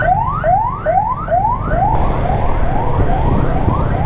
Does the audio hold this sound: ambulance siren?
yes